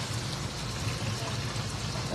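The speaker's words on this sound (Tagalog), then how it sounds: "Lagay na ako ng tubig." Water is poured into a cooking pot for tomato sinigang with dalag fish, a soft, continuous low pour heard fairly faint.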